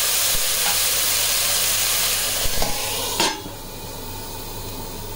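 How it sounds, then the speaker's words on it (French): Beef stir-fry sizzling and frying in a pan for a Japanese-style sautéed beef dish, with a brief clatter and a sharp hiss as a little water is poured in to deglaze, after which the sizzle settles lower. "Je déglace avec un petit peu d'eau avant de couvrir."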